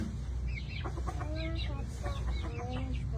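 Chickens cluck repeatedly at close range, with short overlapping calls over a steady low rumble and no talking.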